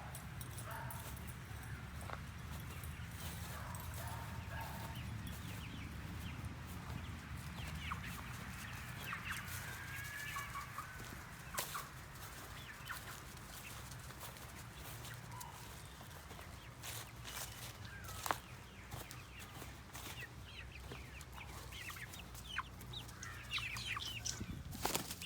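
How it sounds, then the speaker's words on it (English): Chickens cluck steadily in an outdoor yard, with soft rustling, occasional wing flaps and a few sharp knocks over a constant low background rumble. "Little chickies running around the yard."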